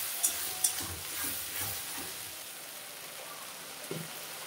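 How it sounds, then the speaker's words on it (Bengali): Ginger, garlic, onion and green chilli paste fries in a pan with a soft, steady sizzle, while a spatula scrapes and stirs through it in a few low, close strokes. "এখন আমি আদা রসুন পেঁয়াজ কাঁচা লঙ্কা বাটাটা দিয়ে দিলাম।"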